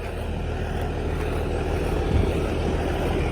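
A tractor rakes hay in the field, its engine a steady, close, unbroken rumble with no talk over it.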